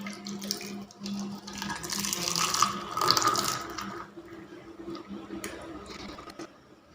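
Pineapple juice being poured over ice balls in a glass, a splashing liquid stream that swells and fades in uneven bursts over several seconds, with faint clinks and no speech.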